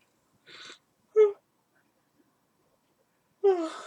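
A person yawns in a quiet room: a short breathy exhale, then a drawn-out voiced yawn, and after a silent gap another long groaning yawn, all close and isolated.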